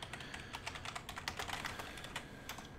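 Typing on a computer keyboard, a steady run of close, crisp key clicks with an uneven rhythm, heard alone with no talking.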